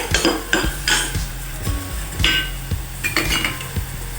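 Ginger garlic paste is stirred in a metal pan with repeated sharp clanks and clinks of a spoon against the pan, in an irregular rhythm with no talking.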